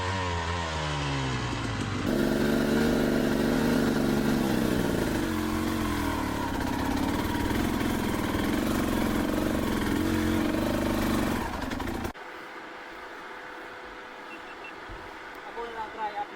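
An enduro motorcycle engine revs hard and steadily for about ten seconds as its wheel spins in mud on a slippery trail, the pitch wavering as it strains, then cuts to a quieter, rumbling background.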